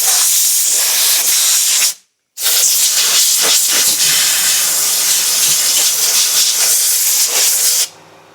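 Compressed air hissing loudly up close as it blows debris off a chainsaw around the filler cap, two long steady bursts separated by a short pause.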